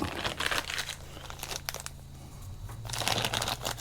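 A plastic bag is handled and pulled at for guitar shielding paint, giving continuous close crinkling and rustling in two louder bursts with a quieter stretch between.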